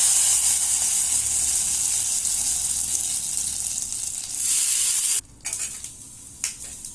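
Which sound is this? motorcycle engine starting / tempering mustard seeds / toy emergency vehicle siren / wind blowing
tempering mustard seeds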